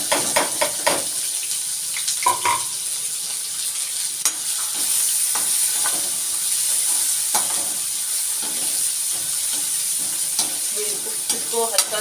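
Chopped onion and mustard seeds sizzle steadily in hot oil in a pan, a loud continuous fry close by with occasional stirring scrapes and clinks, no voices.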